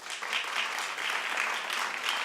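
A television talk show studio audience applauds, a dense, even wash of clapping at moderate loudness that holds steady across the short clip without talk.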